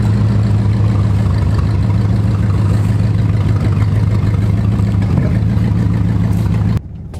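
A C4 Corvette engine running poorly, a loud close idle drone with uneven, lumpy pulsing and a sharp irregular pop near the end before the sound cuts off abruptly.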